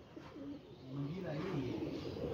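Pigeons coo in low, rolling, repeated calls close by, steady across the moment with faint background noise and no clear talk.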